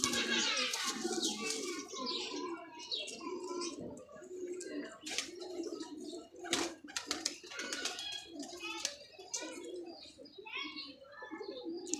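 Several pigeons coo softly in a busy setting at a pigeon keeper's, with chirps and other bird calls mixed in under steady chatter and speech throughout.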